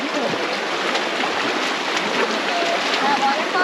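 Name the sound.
small waterfall in the Zion Narrows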